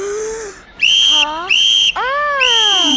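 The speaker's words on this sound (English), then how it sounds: "This whistle's only for emergencies." A whistle in an animated children's series is blown loud and close in three shrill blasts, each sliding slightly in pitch, with brief gaps between them and no talk.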